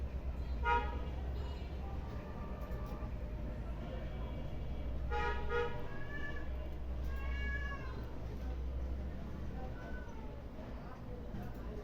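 Several cats meow in short bursts, some near and some further off, over a steady low rumble; a person's voice is also heard during the clip.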